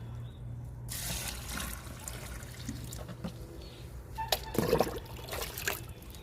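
Liquid fertilizer is poured onto a flowering garden plant, giving a soft trickling and splashing of water onto soil and leaves, faint and close, with a slightly louder splash near the end and no talking.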